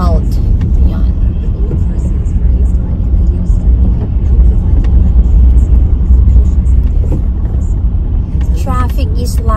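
A car drives through provincial traffic on the way to school, its loud, steady engine and road rumble filling the cabin throughout, with faint higher clicks and tones near the end.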